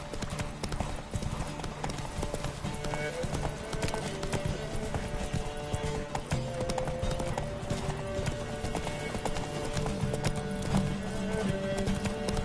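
Roach, the horse in The Witcher 3: Wild Hunt, gallops with fast, steady hoofbeats that run throughout amid game music and ambient noise, with voices talking over the hooves.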